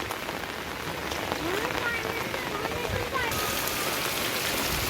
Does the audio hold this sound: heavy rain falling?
yes